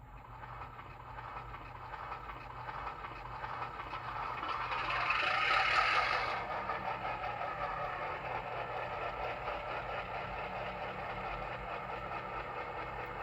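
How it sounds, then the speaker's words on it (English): A model locomotive's sound system hums and rumbles softly with a steady engine drone, briefly swelling with a hiss of released steam or air midway. "it's the only locomotive I have with lock sound in it, so let's give it a listen"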